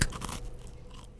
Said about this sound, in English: It's just a mic crunch.